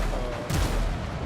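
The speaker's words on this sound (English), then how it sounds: "aiming cannon on a ship at sea" A ship's cannon fires across rough water at sea in a naval video game, a single sudden boom about midway that rises out of a steady, wash-like background roar.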